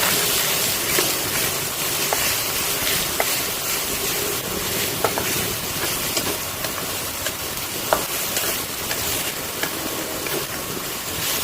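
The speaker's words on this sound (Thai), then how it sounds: "ผัดจนหมูเข้าแห้งแล้วก็จะปรุงเครื่องเลยยจ้า" Pork with holy basil and carrot sizzles steadily in a hot pan while being stir-fried, a continuous hiss with occasional light spatula taps, close and even, with no talking.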